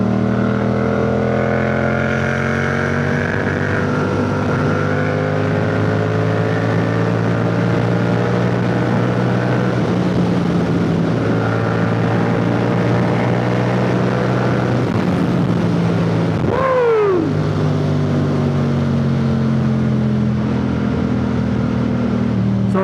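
Motorcycle riding along back roads, a steady engine drone with rising and falling gear tones and continuous wind noise, loud and close, one brief dip as the engine revs shift, no talking.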